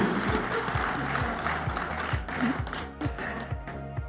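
Summit audience gives a round of applause, a broad patter of clapping at moderate level with a rhythmic musical beat running beneath it.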